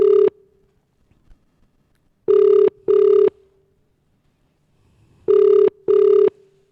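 Ringback tone of an outgoing telephone call, loud and close: short electronic ring bursts, one alone then two pairs of double rings separated by silent gaps.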